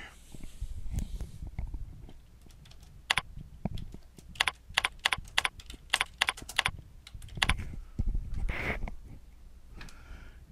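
Irregular bursts of computer keyboard typing, close and fairly quiet, with clusters of sharp key clicks separated by short pauses while someone creates a blog post.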